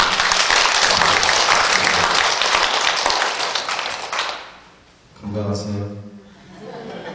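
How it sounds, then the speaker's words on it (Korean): A church congregation claps vigorously in encouragement during a women's devotional service, a loud, dense burst that fades after about four seconds, followed by a voice speaking and a little laughter. "격려의 박수 힘차게"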